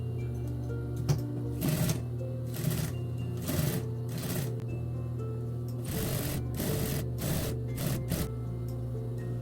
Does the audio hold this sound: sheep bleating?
no